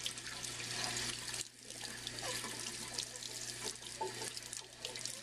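Hot water pours steadily from a tap over a baby in a bath, a close, continuous splashing rush that dips briefly before resuming, with no voices.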